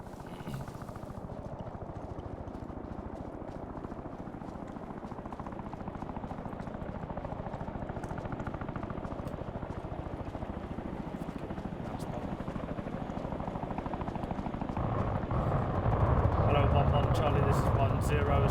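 A helicopter comes in to land during an airborne platoon air assault, its rotor thumping and engine roaring steadily and growing louder toward the end, while someone talks over the noise.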